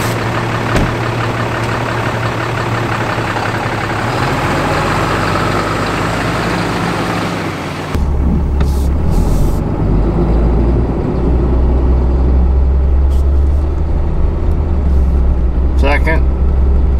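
A stock 6.7 Cummins diesel pickup with a stock transmission pulls away, its engine a steady low rumble that idles, then deepens and grows louder at about the halfway point as the truck starts driving.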